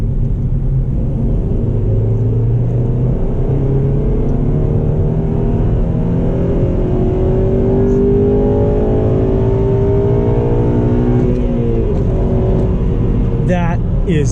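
A 2009 Honda Civic Si engine revs hard under acceleration, pitch climbing steadily through the gear, then dropping at a shift before rising again; loud and close, heard from inside the cabin.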